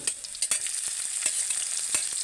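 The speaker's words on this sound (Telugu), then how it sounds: "సన్నగా చాక్ చేసుకున్న వెల్లుల్లి వెల్లుల్లి లైట్గా ఫ్రై అవుతున్నప్పుడే సన్నగా చాక్ చేసుకున్న పచ్చిమిర్చి" Finely chopped garlic and green chillies frying in hot oil, a bright steady sizzle close by with sharp scraping clicks from stirring, and no voices.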